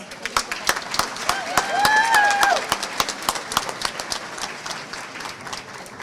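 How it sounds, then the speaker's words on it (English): A crowd claps at the grand opening of a senior center, a lively round of applause with distinct close hand claps and a brief whistle rising in the middle, under some talk. "So can we please round of applause"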